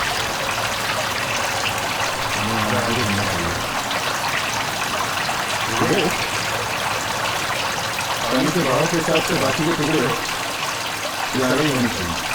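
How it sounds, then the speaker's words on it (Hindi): Gutter water rushes in a steady, loud, broadband flow that stays constant throughout, with voices of people talking nearby heard intermittently over it. "इस गटर का पानी इस तरफ जा रहा है"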